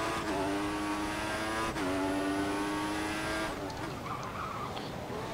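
An F1 2014 racing car locks its front-left tyre on the Valencia street circuit, a high engine whine under a long tyre squeal that breaks off and repeats, then fades out.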